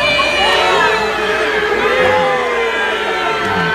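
A concert crowd cheers and shouts steadily before a band's set at an outdoor show in Pearl Harbor, Hawaii, a dense, loud wall of voices and whoops with no break.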